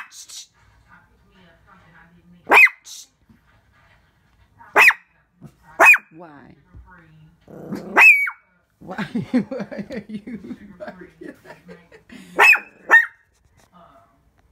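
A dog barks in sharp single and paired yelps spaced across the clip, with a person speaking briefly and a stretch of murmured talk between barks.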